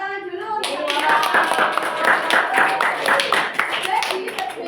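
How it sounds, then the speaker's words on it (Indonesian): Classroom students clapping together during a micro-teaching lesson, a brisk burst of many hands over the teacher's voice, fairly close and steady for several seconds. "Ya, tepuk tangan dulu."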